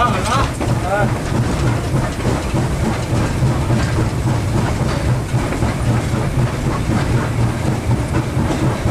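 SY 2-8-2 steam locomotive accelerating forward at a Tangshan coal mine: a loud, close, continuous rumble and roar with a steady rhythmic clatter running throughout.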